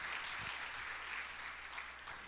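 A church congregation applauds in a steady, dense patter of many hands clapping, somewhat distant and fairly quiet, sustained for a couple of seconds.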